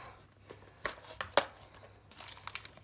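An embellishment box of sequins mix is opened up, giving quiet crinkly rustles of plastic and paper with a few sharp clicks and crackles, close and soft, with no talking.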